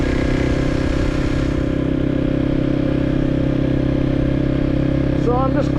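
A Kawasaki KLX 300 dirt bike cruises along an easy early-spring trail in New Hampshire, its engine droning steadily and close throughout, with a brief higher whine near the end.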